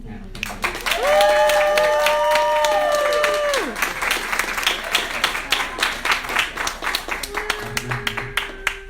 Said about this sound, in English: one more round of applause for our wonderful panel